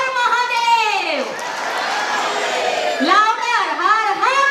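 Parents in the audience at a school annual day celebration cheer their children, loud voices rising and falling together in drawn-out shouted calls, a crowd roaring in bursts.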